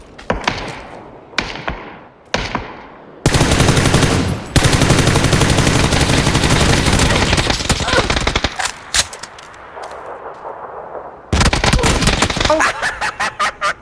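Gunfire in PUBG: scattered single shots and short bursts, then a long sustained automatic volley, a quieter stretch and another heavy burst, loud and close, with no talk over it.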